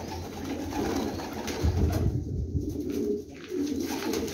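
Pigeons cooing at a bird sale, a low steady murmur of coos that runs through the whole stretch amid background crowd noise, with no clear speech over it.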